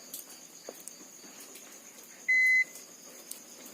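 A multimeter's continuity buzzer gives one short, clear electronic beep while probing a cable, sounding alone against faint background hiss and small handling ticks.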